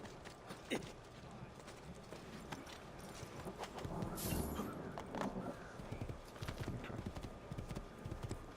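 Horse hooves clip-clop in the Assassin's Creed II video game, a steady trotting rhythm under ambient city noise with a few crow caws, while a voice talks at moments.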